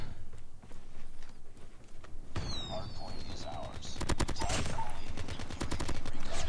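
Rapid bursts of automatic gunfire from COD Mobile, a close, loud rattling string of shots dominating the latter half over game effects and clatter, with a sweeping whistle-like effect mid-clip.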